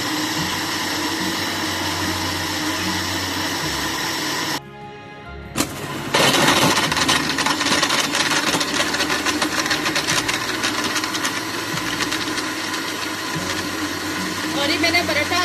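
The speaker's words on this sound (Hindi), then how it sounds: "इसको मैं 2 मिनट के लिए ब्लेंड करूंगी" An electric blender whirs loudly and steadily as it blends peaches with salt and sugar for juice, starting up after a brief pause and running continuously to the end.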